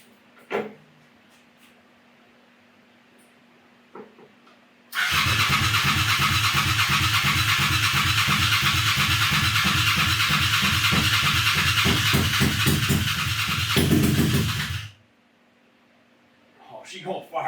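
A 1000cc crosskart engine salvaged from a junkyard cranks and fires up for its first start, then runs loud and close with a rapid, steady exhaust pulse for about ten seconds before cutting off abruptly.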